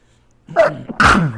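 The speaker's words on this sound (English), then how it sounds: "But I'm going to sneeze first." A close sneeze with a short breathy wind-up followed by a loud explosive burst, heard alone without talk.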